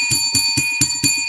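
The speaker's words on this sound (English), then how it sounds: "Let's ring the bell for Des Ritter having a great game." A bell rings on a sports show, five quick evenly spaced strikes whose bright metallic tones hang on in a steady sustained ring.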